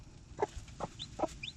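A hen that was once a battery-farm layer gives soft, close clucks in an even rhythm, three short calls over about a second, while her chicks add faint high peeps.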